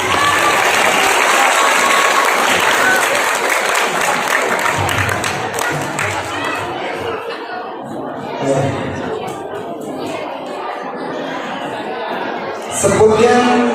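A mosque audience at a Maulid Nabi gathering bursts into loud, dense applause that carries on steadily and gradually thins out, with crowd chatter and murmuring mixed through it.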